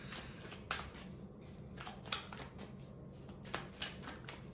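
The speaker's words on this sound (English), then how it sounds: "I have to pull cards for this shit" Tarot cards shuffled and pulled from a deck, heard as soft papery riffles with a few sharper flicks at irregular intervals, quiet and close, with no talking.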